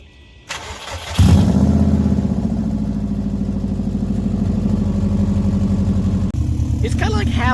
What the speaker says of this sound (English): here's the exhaust before we fix it.